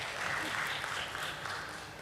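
Moderate audience clapping at a stock exchange listing ceremony, a soft, steady patter that fades slightly toward the end, heard from some distance.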